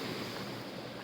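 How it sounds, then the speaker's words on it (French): Stream flowing beside a footpath on a walk, a dense steady rushing wash with wind-like noise, continuous and fairly close, no voices. "Là, je passe à côté d'un ruisseau."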